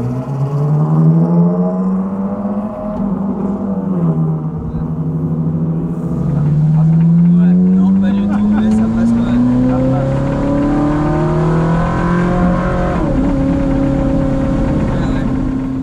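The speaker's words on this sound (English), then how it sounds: "taking the car out, the sound of this thing is nuts. Listen to just even me pulling out of the pit lane." Ferrari Challenge race car pulling out of pit lane, its engine loud and close with a rising, falling pitch as it accelerates and short shifts, continuous throughout while a voice talks over it.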